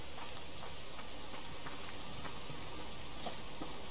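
Steady rain falling in the open-world survival game Subsistence, a continuous hiss with faint scattered patters and ticks, no voices.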